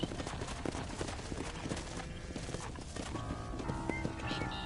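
Steady clip-clop of horse hooves in Red Dead Redemption on PS4 over a dense, busy background mix, with occasional whinnies, continuous throughout.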